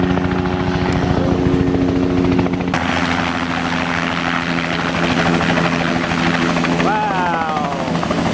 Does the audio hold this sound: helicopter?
yes